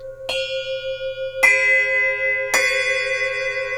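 A bell cymbal struck three times with a soft rubber mallet, each stroke giving a rounded, ringing tone with a gentle attack and long sustain that overlaps the next, close and clear with no talking.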